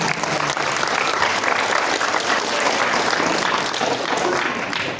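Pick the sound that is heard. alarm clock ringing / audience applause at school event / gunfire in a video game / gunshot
audience applause at school event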